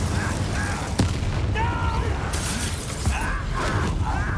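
An Incendio fire spell cast in Hogwarts Legacy, a burst of fiery crackle and booming impact buried in a dense, continuous game mix of combat noise, effects and voices.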